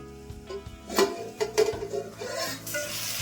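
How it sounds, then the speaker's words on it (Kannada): Tomato for lentil sambar fries in a pan, a steady soft sizzle broken by a few louder scraping stirs up close, with no talking. "ಚೆನ್ನಾಗಿ ಟೊಮೆಟೊ ಮೆತ್ತ ಫ್ರೈ ಆಗಿದೆ"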